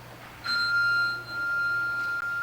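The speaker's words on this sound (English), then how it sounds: "Suddenly, a single bell tolled through the chill of the night air." A single bell is struck once, giving a clear, bright ring that holds and slowly fades over about two seconds above a low background hum.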